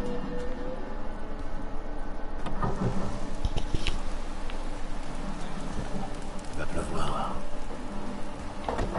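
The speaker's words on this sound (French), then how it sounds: "Non, il pleut déjà, Gérald." Steady rain pattering down in The Witcher 3 on PS4, a constant wash of falling water heard throughout, with faint bird-like chirps and occasional clatter mixed in.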